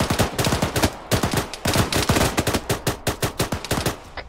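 Machine gun firing in the video game Arma 3, with loud rapid bursts of automatic fire, a tight rhythm of closely spaced shots with brief pauses between bursts.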